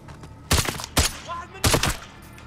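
Gunfire in the video game Modern Warfare, three loud close shots in quick succession about half a second apart, with a brief pause before the third and a ringing tail between them.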